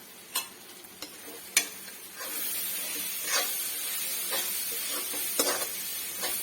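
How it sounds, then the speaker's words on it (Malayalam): Curry leaves drop into onions frying in oil for chicken curry, with a few sharp utensil clicks and scrapes, then a steady bright sizzle and hiss as the pan is stirred up close. "ഇതിനകത്ത് ഇച്ചിരി കരിയാപ്പില ഇടാം."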